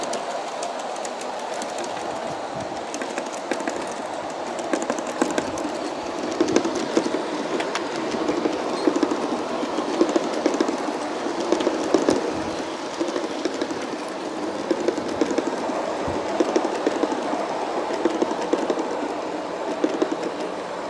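A G scale model BNSF train hauling 18 cars rolls steadily along track, a continuous mid-level rumble with fine rhythmic rail clicking and occasional faint wheel squeal, no talking.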